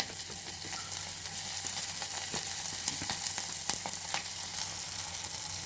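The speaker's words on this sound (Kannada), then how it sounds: "ಈರುಳ್ಳಿ ಹಸಿಮೆಣ್ಸಿನ್ಕಾಯಿ ಎಲ್ಲನೂ ಆಯಿಲಲ್ಲಿ ನೀಟಾಗಿ ಫ್ರೈ ಆಗೋದಕ್ಕೆ ಬಿಡೋಣ" Chopped onion and green chillies fry in hot oil with a constant close sizzle and a scattering of sharp pops and crackles.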